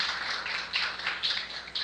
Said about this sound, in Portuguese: Então eu queria uma salva de palmas para toda a equipe da TV Ibis.